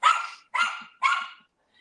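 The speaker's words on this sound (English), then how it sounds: "He's going to bark the whole time now." Jonty the dog barks three times in a quick, evenly spaced run, each bark sharp and close, followed by a brief quiet moment and a tiny faint sound at the end.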